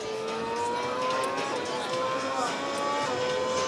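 A virtual racing car's engine from a desktop driving simulator running on Nvidia Grid graphics roars steadily, its pitch rising and shifting as it revs, with crowd noise of a trade-show booth behind it.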